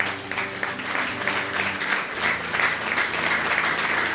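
A church congregation claps loudly during a Spanish-language spiritual warfare service, a dense sustained wash of applause with a low hum beneath and faint voices mixed in.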